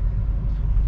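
A Peugeot 508 overtakes on the road, a brief, steady low rumble of engine and tyre noise, fairly loud and without a clear rise or fade.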